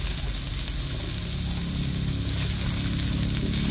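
Garlic and onion frying in a pan for chicken feet adobo, a loud, dense, continuous sizzle with faint crackles and a low rumble of the stove beneath, no voices.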